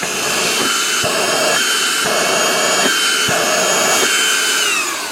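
A Portutif cordless handheld vacuum cleaner runs with a steady, loud motor whine throughout, with the pitch briefly dipping and shifting several times as it is handled.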